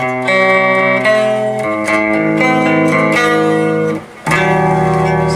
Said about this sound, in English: that last chord we're going to use distortion